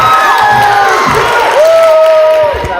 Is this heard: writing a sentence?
no